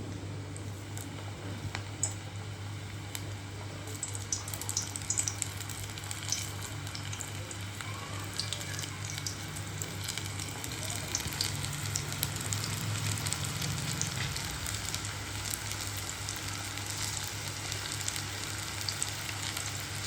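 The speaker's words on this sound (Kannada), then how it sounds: "ಈಗ ಆಯಿಲು ಕಾದಿದೆ ಒಂದೊಂದಾಗಿ ಈರುಳ್ಳಿ ಬಜ್ಜಿನ ಬಿಡ್ತಾ ಇದ್ದೀನಿ" Onion bhajis dropped one at a time into hot oil fry with a steady, close, crackling sizzle that continues evenly throughout, with no talking.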